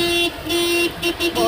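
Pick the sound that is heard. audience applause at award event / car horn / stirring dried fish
car horn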